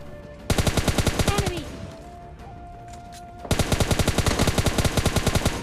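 Automatic gunfire rattles in PUBG Mobile Lite, with two long, rapid bursts of evenly spaced shots, loud and close. A short quieter gap separates the bursts.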